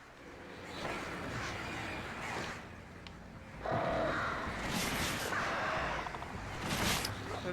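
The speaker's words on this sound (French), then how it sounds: "L'avantage, c'est que les corbeaux, ils sont pas discrets quand ils attaquent." Crows caw harshly and swoop in an attack in the video game Alan Wake, with several raspy calls and whooshing bursts over a low game ambience.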